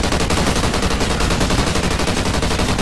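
Rapid automatic gunfire in the video game Call of Duty Ghosts Extinction, a dense, loud, unbroken stream of shots filling the whole stretch with no talk.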